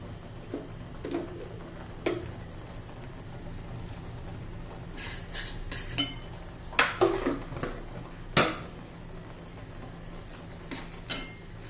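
Spoon stirring a thickening chocolate modak mixture in a pan, with scattered soft scrapes and light metallic clinks, irregular and fairly quiet over a low steady background hum.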